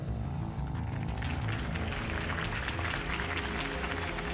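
A dense wash of crowd applause and cheering in the video game Batman: The Telltale Series, steady and loud throughout, with many overlapping claps blending into a continuous roar.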